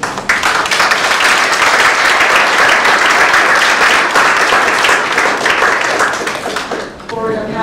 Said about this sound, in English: let's round out this session with a big round of applause